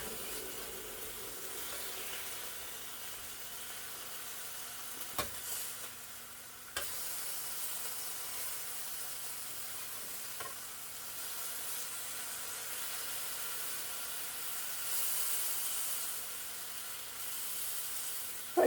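Bacon sizzles in a frying pan as a steady, close hiss that fills the whole stretch. There are a few brief clicks as the pieces are turned, and no talk.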